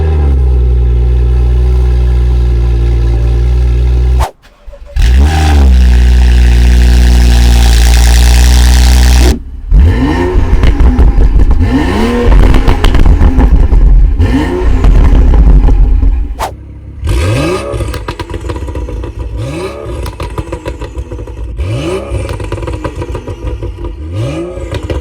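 BMW M235i with a new sports catalytic converter exhaust, revving repeatedly: long loud sustained blips, then a run of sharp rising-and-falling revs with crackling, close and loud with no talk.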